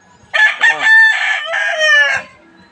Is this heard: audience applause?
no